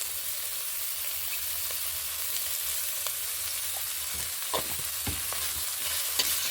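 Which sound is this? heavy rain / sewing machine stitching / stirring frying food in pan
stirring frying food in pan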